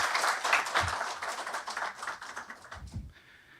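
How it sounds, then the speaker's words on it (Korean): Warm applause welcoming a keynote speaker at a global forum, a room of hands clapping in a moderate, uneven wash that thins out toward the end, with a few low thumps. "뜨거운 박수로 맞이해 주기 바랍니다."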